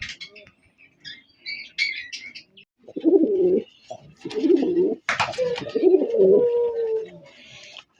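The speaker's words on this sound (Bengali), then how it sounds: "এখানে আরেক জোড়া কবুতর আছে" Pigeons coo with soft, repeated low rolling calls from a breeding pair of grizzle and racer pigeons, close by, in several bursts alongside occasional higher chirps and squawks.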